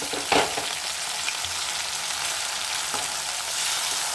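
Onions frying in hot oil in a pan for a tomato curry, a steady close sizzle with a couple of brief stirring clatters and no talk.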